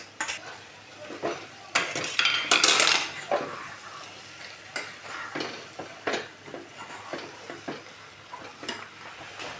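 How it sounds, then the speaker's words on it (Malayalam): Washed chicken pieces go into a pan for curry, giving clattering scrapes, clinks of a utensil against metal and a light sizzle in irregular bursts, fairly close and moderately loud. "നമ്മൾ കഴുകി വൃത്തിയാക്കി വെച്ചിരുന്ന ചിക്കൻ എടുത്തിടണം."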